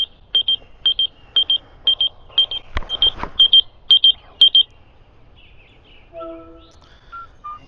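A phone rings with an incoming call, a rapid series of short, high electronic beeps in regular bursts, close and clear, followed by a few lower tones near the end.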